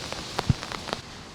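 Light rain falls on a Moscow street, soft scattered drops pattering on surfaces in a brief, fairly quiet stretch with no talk.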